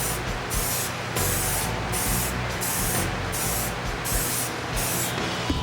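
Rust-Oleum metallic chrome spray paint hisses from an aerosol can in loud, close, repeated bursts with brief pauses between passes.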